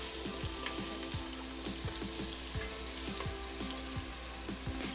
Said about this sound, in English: So the coconut oil is all melted, and we will add and cook about 3 minutes or until the onion is starting